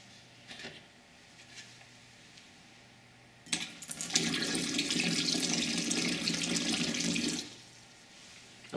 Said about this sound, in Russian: Нальем воды.